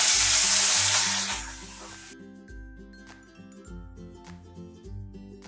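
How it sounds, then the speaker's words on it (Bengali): Mourola fish frying in hot mustard oil in a kadai, a loud dense sizzle at first that settles into a steadier, quieter crackle, with no talking. "মাছগুলোকে মিডিয়াম ফ্লেমে লাল লাল করে ভেজে নেব।"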